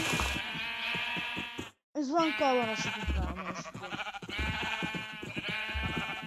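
Sheep bleat in the Minecraft video game, several wavering cries in quick succession, under a person talking over the gameplay.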